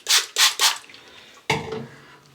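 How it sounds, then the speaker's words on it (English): Water splashes and drips onto shaving soap lather in three quick wet bursts, then a short burst of brushing and mixing, all close up. "I could probably add a little bit more water"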